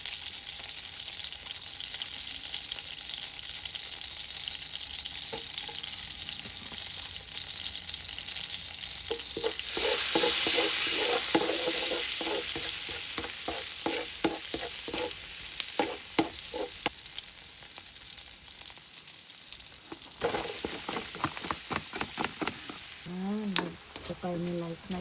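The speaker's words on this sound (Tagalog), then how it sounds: "Caramelize na yung sibuyas." Onions caramelizing in a pan, a faint steady sizzle broken by bursts of utensil scraping and tapping, with louder hissing surges partway through.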